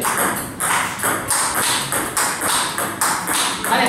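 A table tennis ball struck back and forth with a paddle fitted with Chinese rubber during a fixed-point rally, giving sharp, crisp clicks at a steady rhythm of about two per second, close and loud.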